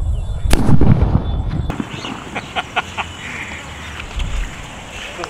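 A single loud Agni Classic bomb firecracker bursts near the start in an open area, followed by a fading rumble and outdoor background noise with faint voices.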